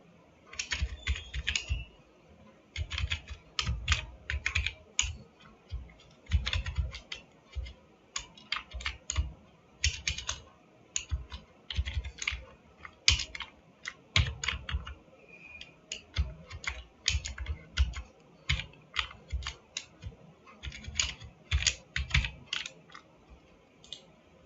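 Rapid typing on a computer keyboard, with bursts of close, crisp key clicks in irregular rhythm and short pauses between runs, heard alone with no talking.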